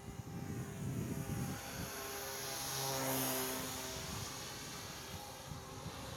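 A homemade motorized model aircraft drones overhead, its small engine buzz swelling and shifting in pitch as it passes near, then easing off, steady and without speech.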